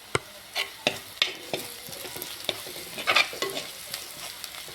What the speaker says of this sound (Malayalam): കുറച്ച് കറിവേപ്പിലയും കൂടി ഇട്ട് ഒന്ന് നല്ലതുപോലെ ഉള്ളി വഴറ്റിയെടുക്കാം